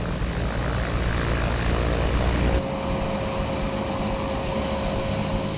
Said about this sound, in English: The Grumman Mallard is a twin turboprop design.